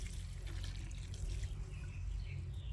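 Water poured over a freshly transplanted plant, a steady trickling splash into soil running the whole time at moderate level, with no talking.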